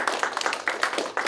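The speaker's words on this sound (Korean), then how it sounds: "다시 한번 큰 박수 부탁드릴게요." Applause at a ceremony for a city SDGs supporters program in Pyeongtaek, a small group clapping in brief, uneven bursts close by, thin and short rather than a full crowd.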